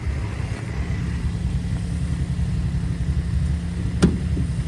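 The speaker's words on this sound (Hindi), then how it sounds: "ये तो कोल्ड स्टार्ट हो रही है अभी" A Volkswagen Vento's engine idles just after a cold start, a steady low rumble holding throughout with one brief sharp knock near the end.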